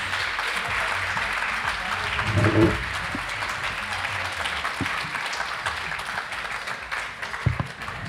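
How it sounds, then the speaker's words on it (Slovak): Sustained applause from an audience in a festival tent welcoming a speaker to a debate, a broad continuous clatter of many hands with a few louder individual claps, faint voices underneath. "Môžete ju kľudne privítať potleskom,"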